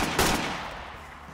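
A short burst of gunfire from guns being sold in a film scene, a loud rapid volley at the start decaying into a fading echo.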